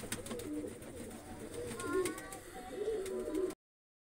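Pigeons, a male and female, cooing at a rooftop perch with soft repeated low coos over steady background noise, fairly close, with no talk.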